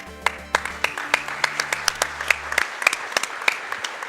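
An audience at the Summer Games Done Quick 2015 speedrunning marathon applauds after a Mega Man: The Wily Wars run. Scattered claps ring out over a fading musical tone, continuing steadily for several seconds.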